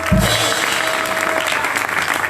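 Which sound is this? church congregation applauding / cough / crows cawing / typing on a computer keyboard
church congregation applauding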